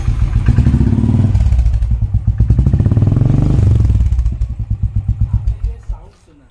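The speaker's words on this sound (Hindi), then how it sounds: "अगर मैं आपको इस टाइम पे एग्जॉस्ट का साउंड सुनाओ फिर से चालू कर" Royal Enfield Thunderbird 500cc motorcycle with an aftermarket exhaust starts up and settles into a loud, close, steady single-cylinder thump that rises slightly in revs before tapering to slower separate pulses.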